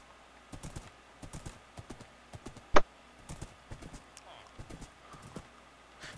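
Horse hooves clip-clop at a steady trot in Minecraft, with a short sharp spike partway through, and a voice talking over the hoofbeats.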